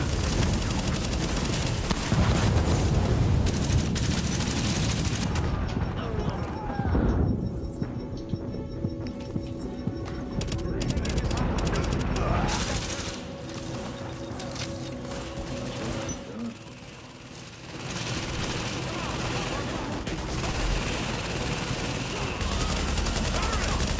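Rapid bursts of gunfire and booming shots from the video game Tom Clancy's The Division fill the scene, dense at first then more sporadic, with a player's voice talking over the action.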